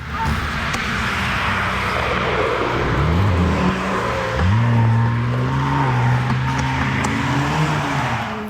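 A white Maserati drives close past a cyclist, its engine note rising and revving as it passes, over steady wind and road noise.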